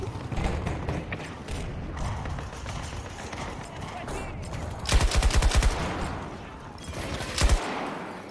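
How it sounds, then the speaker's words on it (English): Shotgun blasts in the online shooter Battlefield 2042, a burst of loud booming shots midway and another sharp shot near the end, amid constant battle noise and a player talking. "That's a shotgun."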